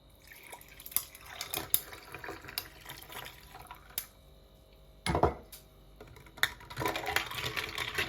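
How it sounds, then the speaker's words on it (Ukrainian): Water splashes and trickles into a container of concentrated tarragon syrup in a few short bursts, close by, with light clinks and handling noises between pours. "І води додам."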